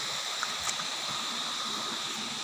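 Water flows steadily at a well where villagers draw drinking water, a close, even rushing with a faint gurgle throughout and no talking.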